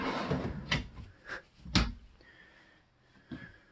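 Drawers on ball-bearing slides in a 2019 Flagstaff RV open and close, giving several short, sharp knocks and sliding rattles spaced irregularly, close and fairly quiet.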